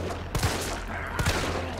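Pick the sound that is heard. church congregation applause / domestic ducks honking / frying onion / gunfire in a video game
gunfire in a video game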